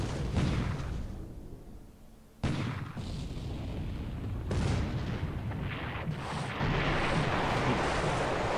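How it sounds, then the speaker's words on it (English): Heavy explosions from large torpedo impacts in the War in the Pacific naval game, a series of deep booming blasts with rumbling tails, one sharp onset after a brief lull, loud and close with no talking. "Two very large torpedo impacts"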